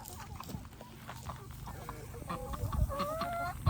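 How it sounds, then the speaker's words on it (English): Several chickens cluck and murmur close by in a busy farmyard, with scattered soft calls growing a bit louder toward the end. "these older chickens of ours came over too"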